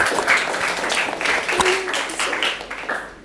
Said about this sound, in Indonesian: tepuk tangan buat Mbak Mel ya